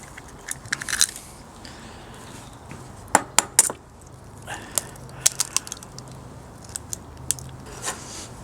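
Three eggs are cracked into a bowl: sharp, close taps and cracks come in scattered clusters, densest midway, over a quiet background with no talking.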